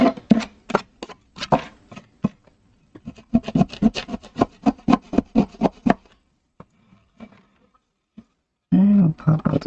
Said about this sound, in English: Scrape it.